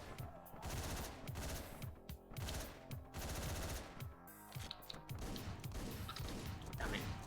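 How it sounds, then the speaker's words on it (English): Shotgun fire in Hotline Miami, with repeated sharp, loud blasts in quick succession over continuous game music and action noise. "It's really tricky doing it with a shotgun."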